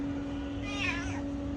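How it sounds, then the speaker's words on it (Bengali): A plump house cat gives a single drawn-out meow, moderately close, over a steady background hum. "মোটো বিড়াল।"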